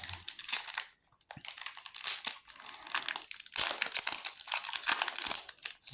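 A One Piece card game premium booster pack wrapper is torn and crinkled open close up, with busy foil crackling in bursts and brief pauses between.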